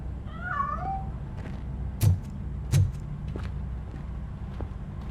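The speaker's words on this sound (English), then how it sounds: "That cat must be hiding inside. Let me lure it out." A cat in the video game Robocop: Rogue City gives a short meow early on, followed by a couple of dull thumps and faint clicks over a low ambient hum.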